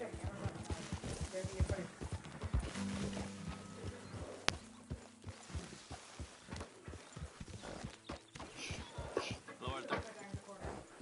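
A horse in Red Dead Redemption 2 clip-clops along with steady hoofbeats and a brief whinny, close by, while people talk over it.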